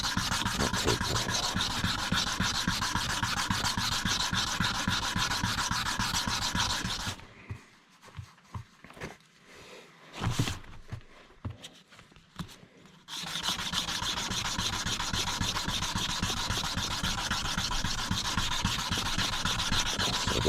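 Block plane part rubbed on 320 grit sandpaper in fast, continuous back-and-forth strokes, loud and close, with a pause of several seconds midway holding a few light knocks before the sanding resumes.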